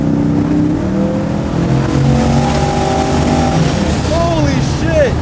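A 1,600 hp twin-turbo Chevelle restomod accelerates hard at around 70 with its tires spinning, a loud, sustained engine roar rising in pitch from inside the car while voices talk over it.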